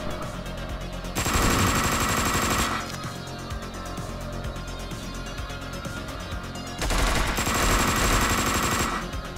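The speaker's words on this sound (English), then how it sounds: "He actually shot somebody" Gunfire in the top-down shooter Hotline Miami 2 comes in two long, loud bursts of rapid automatic shots over a steady synth music track.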